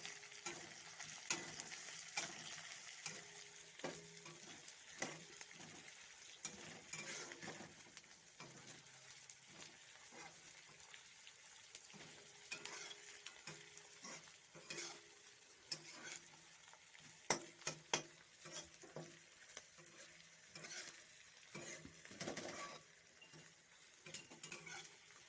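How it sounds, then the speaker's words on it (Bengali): Chicken being stirred through a thick spice masala in a pan for nawabi chicken, with soft scraping, light sizzling and occasional clinks of the spatula against the pot, close and low in level, no talking. "ভালো করে নেড়ে চেড়ে নেব আমি।"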